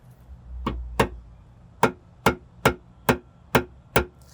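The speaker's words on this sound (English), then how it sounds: "Just want to tap it until it sets." Sharp metallic hammer taps on a Ryobi spiral screw extractor setting into a broken car antenna, eight in all, spaced roughly half a second apart, close and fairly loud, with a low rumble early on.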